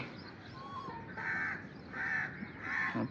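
Harsh crow caws ring out in three loud bursts over a busy, noisy outdoor background, with fainter bird calls in between.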